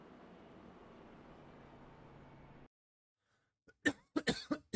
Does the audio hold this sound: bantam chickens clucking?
no